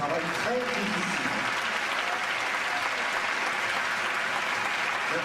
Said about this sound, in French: Et on peut les applaudir, c'est un travail très difficile.